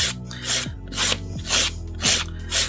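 Acrylic stiletto nail being filed along its body, five rhythmic rasping strokes of a file about half a second apart over a steady low background hum.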